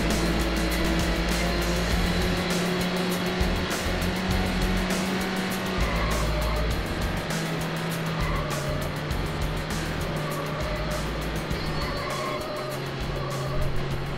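Racing car in Need for Speed driven at full throttle, its engine droning loud and continuous with rising and falling pitch through gear changes, plus bursts of tire squeal through the corners.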